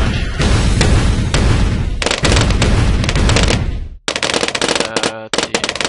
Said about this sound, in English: Stupid bomb tower missing too much.